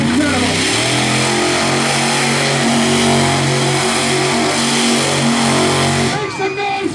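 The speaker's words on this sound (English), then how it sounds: "The power underneath that truck is absolutely incredible!" A monster truck engine revving hard during a freestyle run, a loud sustained roar with clear harmonic pitch, heard under an excited commentator's voice before it cuts off near the end.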